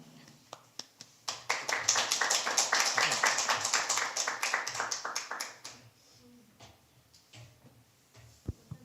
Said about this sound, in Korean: 우리 나오실 때 우리 박수로 환영하도록 하겠습니다.